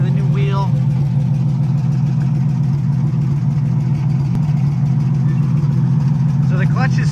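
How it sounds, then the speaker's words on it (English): An Oliver Row Crop 88 tractor engine runs at a steady, loud, close idle with a low, throbbing drone and faint clanks on top, and no talk is heard. "I'm gonna let it run for a while, I'll drive around for a bit."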